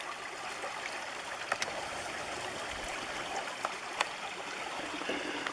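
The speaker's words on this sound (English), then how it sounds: "the amount of water coming down this thing doesn't change." Spring-fed stream flowing steadily down a forest trail near Sitka, a continuous broadband rushing wash with a few brief splashy clicks, close and moderately loud, no voices.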